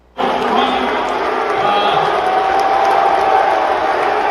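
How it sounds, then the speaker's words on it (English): A large Chicago wrestling arena crowd boos Tony Khan in a loud, sustained roar of jeering voices that swells in suddenly and holds steady, with faint whistles on top. "as they're booing him"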